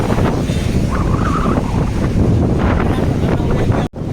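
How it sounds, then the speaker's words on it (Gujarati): Loud, blustery roar of wind and strong sea waves crashing at Daman hits the microphone continuously, with a brief drop-out near the end. "ખૂબ જોરોથી મોજા આવી રહ્યા છે"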